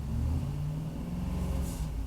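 A 2012 Ford Expedition's V8 engine revs at about 3,000 RPM, a steady, deep, loud rumbling drone that holds for a couple of seconds.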